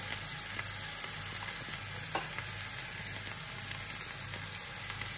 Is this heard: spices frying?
yes